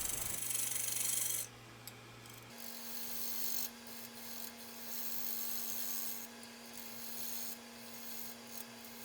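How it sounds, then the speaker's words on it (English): Bowl gouge truing a myrtlewood platter on a wood lathe, a steady scraping rasp over the motor's hum, with a short high hiss at the start and continuous cutting noise throughout. "Starting off truing it up with the Carter & Son 5/8 bowl gouge."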